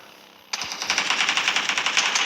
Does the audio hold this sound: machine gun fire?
yes